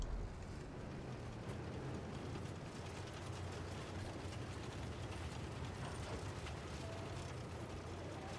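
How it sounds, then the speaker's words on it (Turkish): A big tank in Battlefield 1, a continuous heavy mechanical rumble with grinding, ratcheting tracks and gears, steady and fairly loud throughout. "büyük bir tank geldi."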